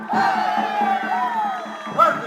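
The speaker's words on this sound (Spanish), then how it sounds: "Fuerte, fuerte el aplauso." A large crowd at the Tacna International Carnival cheers and shouts loudly and steadily, with a brief swell of voices near the end; clapping is hard to pick out beneath the roar.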